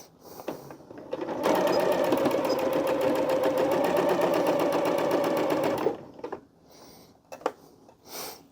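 A sewing machine runs close and loud in one continuous burst of about four and a half seconds while stitching the inside seam of a custom-print Alpha Direct hoodie snorkel hood, with quiet handling noises before and after.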